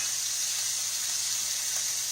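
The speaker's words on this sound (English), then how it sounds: "let just the side cook just a second to sear in that side" Pork loin sears in a hot pan, giving a steady, close, even sizzle with bright hissing spatter throughout and no talking.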